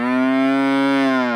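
Cattle low with a single long, loud moo, a sustained harmonic call lasting over a second, close by among pine trees where livestock have just been herded together.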